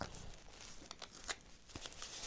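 Paper surprise packets being torn open by hand, with quick ripping bursts and soft crinkling of paper in a quiet room, close to the microphone.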